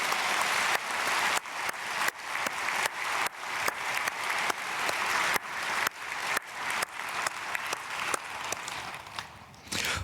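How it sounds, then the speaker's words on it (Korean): Applause from a church congregation at an early-morning prayer service after a testimony of thanks; dense, even clapping runs continuously for ten seconds with no voices over it. "박수하겠습니다"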